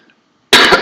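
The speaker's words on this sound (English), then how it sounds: "Apologies for the cough." A councillor at a Norwich City Council planning committee meeting gives a single sharp, loud cough up close after a moment of near silence.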